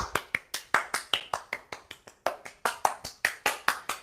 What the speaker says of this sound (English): Giving yourself a round of applause for showing up today